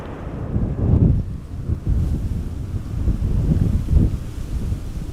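Wind gusting at Schiphol Airport, low rumbling buffets that swell and ease in waves across the microphone.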